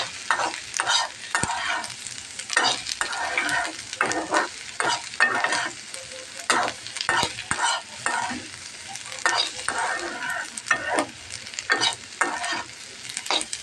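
Bottle gourd peel bhaji frying in a pan makes a continuous sizzle broken by frequent sharp spatula scrapes and stirs in an irregular rhythm, close up and moderately loud, with no voices.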